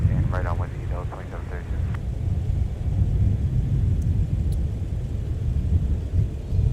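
Airliner taking off and climbing out from MSP airport, a heavy low engine rumble that holds steady and loud throughout, with a brief voice near the start.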